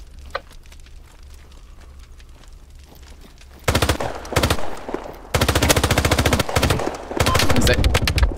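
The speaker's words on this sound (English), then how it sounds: "Is that you shooting at me?" Bursts of automatic gunfire in a horror extraction shooter game grow from faint distant shots to loud, sustained rapid fire in the second half, with voices talking amid the shooting.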